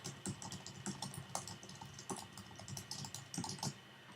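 Steady typing on a computer keyboard, a quick run of close, crisp keystrokes in an uneven rhythm while entering names and a message, with no voices.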